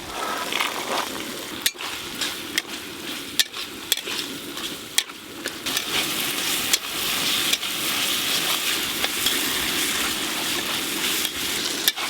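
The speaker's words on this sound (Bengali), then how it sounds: "মটরশুঁটিগুলো দিয়ে মশলা আরেকটু কষে নেব" Spice masala with green peas fries in a pan for khichuri, a constant sizzle broken by sharp, regular clanks and scrapes of a spatula stirring against the metal.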